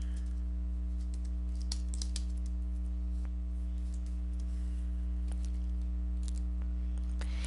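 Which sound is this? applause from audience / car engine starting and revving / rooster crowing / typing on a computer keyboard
typing on a computer keyboard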